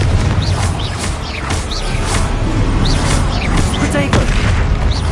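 The Confringo fire spell goes off in Hogwarts Legacy, a fiery magical blast with whooshing bursts over a dense, steady game soundscape, and a voice is heard casting.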